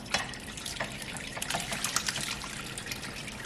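Goat cheese curds and whey are poured gently into cheesecloth, giving a steady, soft splashing trickle of liquid close by that runs the whole time with no talking.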